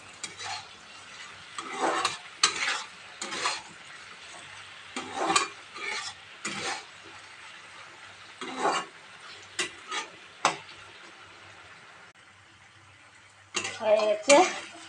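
A bottle gourd curry cooks in a pan, with a spoon scraping and stirring in repeated short bursts over a quiet sizzle, clinking against the metal now and then, with some speech in between.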